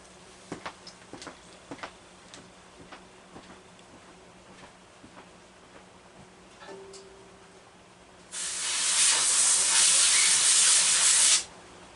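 Compressed air blasts steadily through a part of a Homelite XL-122 Automatic chainsaw, a loud continuous hiss of about three seconds that follows a stretch of faint clicks and handling sounds.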